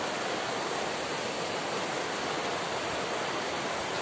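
A swollen village river rushes after continuous rain, a steady loud broadband roar of churning water with no pauses, close and unbroken throughout.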